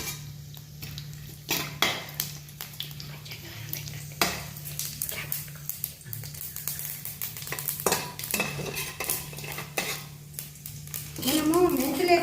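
A spoon stirs a pickle tempering of fenugreek, asafoetida, chana dal and dried red chillies in a pan, with repeated metallic scrapes and clinks over a soft sizzle, irregular and close, louder near the end.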